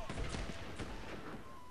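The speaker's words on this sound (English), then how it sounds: "come on, Buccaneers, just fire at these guys" Buccaneers fire their guns during a battle in Sid Meier's Pirates. Several sharp gunshots crack in a ragged volley at moderate distance, followed by a steady fusillade texture.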